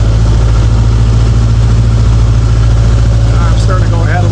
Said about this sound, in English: So I get it about 1700 RPM. And you can hear it drops on one, drops on the other.